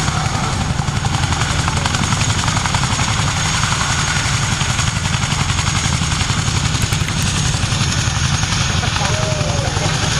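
A twin-engine military transport aircraft with two 5,000 horsepower Honeywell engines runs at an airshow, giving a steady, loud, continuous rumbling drone throughout with a commentator's voice underneath.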